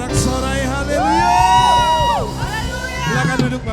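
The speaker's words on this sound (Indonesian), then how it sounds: "Sorak kemenangan dong." A church congregation shouts and whoops in loud, sustained victory cheers during a Sunday service, with rising and falling voices overlapping, some high yells, and a backing music bed beneath.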